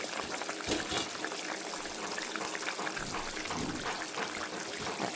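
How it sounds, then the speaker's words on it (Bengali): Pieces of fresh fish going into boiling curry gravy in a home kitchen, a steady bubbling, pouring wash of liquid that stays fairly loud and continuous throughout with no voices. "এখানে ঝোল ফুটে এসছে, আমি দেখো মাছগুলো দিয়ে দিচ্ছি ঝোলের মধ্যে"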